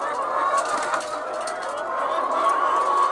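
Hens packed inside a cage-free egg barn make a dense, continuous clucking and squawking chorus, steady and moderately loud throughout with no single bird standing out.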